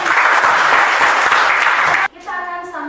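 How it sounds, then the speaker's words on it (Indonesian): Students in a classroom clap together in a loud, dense burst of applause lasting about two seconds, then it cuts off and a voice speaks. "Tepuk tangan dulu buat saya."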